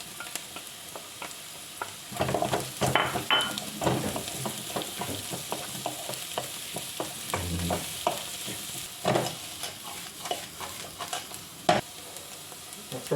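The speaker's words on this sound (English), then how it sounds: "And after a 30-second fry, I'm gonna add in the mushrooms." Mushrooms frying in a hot pan after hot peppers and sage, with a continuous sizzle under frequent scraping stirs of a utensil, close and moderately loud.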